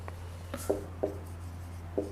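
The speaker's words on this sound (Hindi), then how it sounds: "जरा ये लिखते हैं" Pen or chalk writing out coordinate geometry working in a maths lesson, a few short scratchy strokes spaced apart over a steady low electrical hum, close and quiet.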